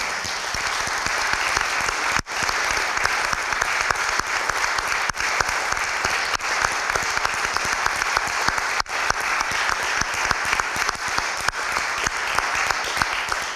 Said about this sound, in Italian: su questo meriti l'applauso più grande che si possa fare a una persona